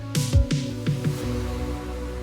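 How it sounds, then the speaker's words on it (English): Layered pop-song production with a sustained choir-like atmosphere pad under a few punchy low hits and bright swept transients, the pad holding steady and sustained once the hits fade. "And then we got these two atmosphere choir sounds supporting it underneath"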